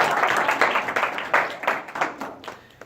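A small audience claps warmly for a guest speaker at a university talk, a brief burst of steady, moderately loud applause that tapers off within a few seconds.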